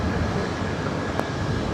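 Steady broad roar of a WestJet airliner's engines at LAX during takeoff, loud and continuous with no talk, holding level throughout.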